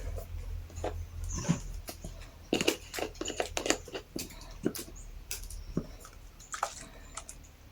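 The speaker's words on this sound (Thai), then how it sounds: "แล้วก็ทำการเขย่าให้เข้ากัน" A plastic spray bottle holding homemade superglue accelerator, water mixed with Haiter bleach, shaken by hand: faint, irregular sloshing and soft plastic rattles close by, with no voices.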